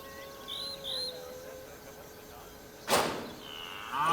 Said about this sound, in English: earn a moo of appreciation